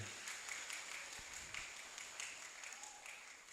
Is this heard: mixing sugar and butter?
no